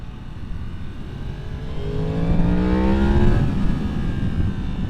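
A 2023 Yamaha MT-10 motorcycle with an ECU flash pulls under throttle, its engine note rising steadily in pitch as it revs up, then easing off, heard close over steady wind rush.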